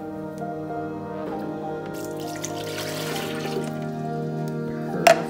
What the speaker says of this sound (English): And then you put the water in.